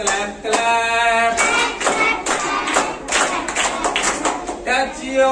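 Rhythmic claps from a hand-clapping game, quick bursts of three struck close by, mixed with a chanting, sung voice that carries on over the beat.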